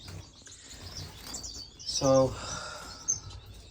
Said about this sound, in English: here we got the 2 babies, shaft tail and an owl finch, coming along great